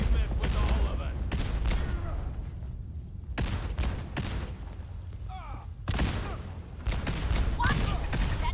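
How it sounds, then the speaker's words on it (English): An automated turret in Fallout 4 fires in several loud, sustained bursts separated by brief pauses, close by, with faint voices between volleys. "Watch it! That turret's live!"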